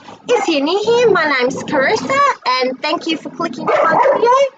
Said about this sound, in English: If you can hear barking in the background, that is our new puppy Max and our 3-year-old Labrador playing